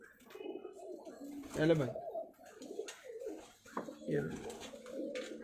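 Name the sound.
pigeons cooing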